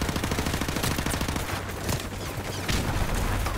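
Rapid automatic gunfire from an MP5 in a video game, aimed at a helicopter overhead, sounds as a dense, continuous burst of loud shots with a brief lull midway before the firing picks back up.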